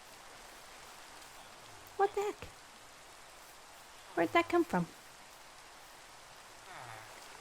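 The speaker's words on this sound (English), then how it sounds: "It's raining." Steady rain falls in a Minecraft-style video game, a constant soft hiss throughout, with a player speaking briefly over it twice.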